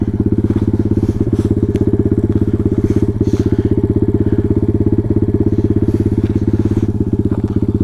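A pit bike, heard from on board while riding home, runs with a loud, close, rapid, even engine putter that holds steady throughout without talk.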